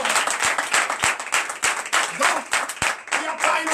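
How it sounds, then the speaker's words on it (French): A church congregation at a Sunday service in Comè, Benin applauds with dense, continuous clapping that stays loud and close, while voices carry on underneath the applause. "Donc je vous demande d'applaudir."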